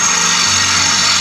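A drill bit bores into metal on a Jeep Gladiator bed rack, a loud steady high-pitched grinding whine, close and continuous for the whole brief moment.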